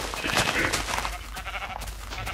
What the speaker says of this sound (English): Where's that fucking sheep?